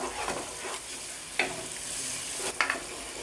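Turmeric being stirred into chicken and tomatoes sizzling in a pan for gongura (sorrel leaves) chicken; continuous frying sizzle with scraping spoon strokes and a couple of sharper clatters, close and fairly loud, no talking.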